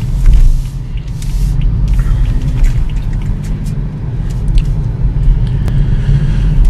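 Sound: BMW 435xi M-Sport convertible driving

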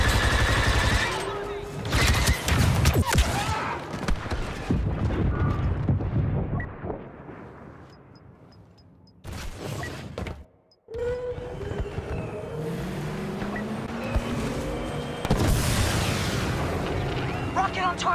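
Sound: rocket explosions hitting walker in Star Wars Battlefront 2 video game

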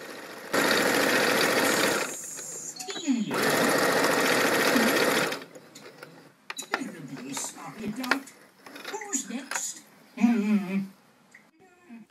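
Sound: sewing machine stitching fabric for Moroccan salon cushions

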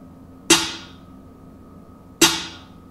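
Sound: snare drum sample in hip-hop beat

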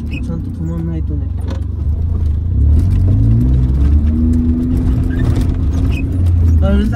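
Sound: loud car engine in second gear

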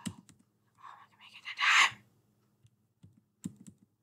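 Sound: slamming on a computer keyboard

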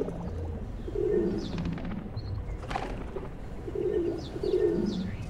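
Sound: pigeons cooing by a river beach

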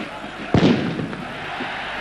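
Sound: firecrackers exploding in football stadium crowd

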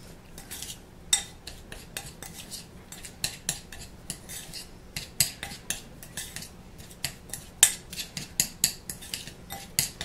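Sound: mixing sugar scrub with a spoon in a bowl

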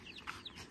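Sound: free-range chickens clucking

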